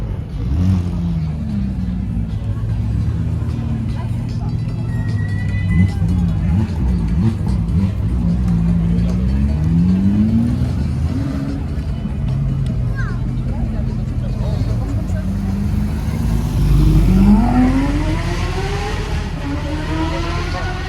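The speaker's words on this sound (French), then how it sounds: "Mais elle fait un bruit fou, ça, GT3 RS." A Porsche GT3 RS engine revs and roars in rising sweeps, loudest near the end, with crowd chatter and people talking over it.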